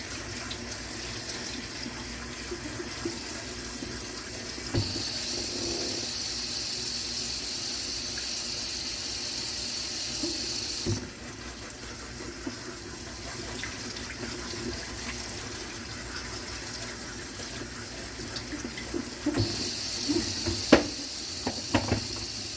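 Running water from a kitchen sink sprayer rinses items under a steady, continuous hiss, with a few brief clunks and knocks of things being handled near the end.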